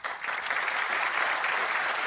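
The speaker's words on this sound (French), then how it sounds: "Merci pour vos applaudissements." A television studio audience breaks into brisk, dense applause, a bright, close wash of clapping that starts suddenly and holds steady for a couple of seconds without talk.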